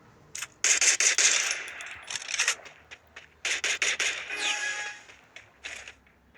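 Gunfire in the Free Fire battle royale game comes in rapid automatic bursts of sharp, crackling shots, with several separate volleys and brief pauses between them.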